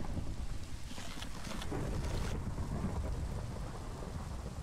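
A thunderstorm in a video game: dense, steady rain and wind noise with a low rumbling roll of thunder, loud and continuous, with no talk.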